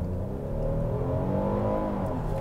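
A 2023 Hyundai Palisade SUV accelerates hard from a brake-boost launch, its engine note rising steadily in pitch as revs climb, heard from inside the cabin, loud and continuous with no talk.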